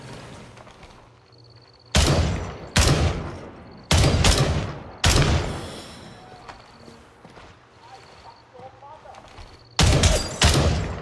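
Gray Zone Warfare video game gunfire: several sharp, loud bursts of rifle shots in quick pairs, separated by quieter stretches of ambient game noise.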